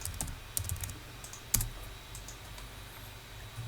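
Keystrokes on a computer keyboard while a command is entered for a Ruby on Rails app, a few sharp clicks in an uneven burst, with one louder tap near the middle, over a steady low room hum.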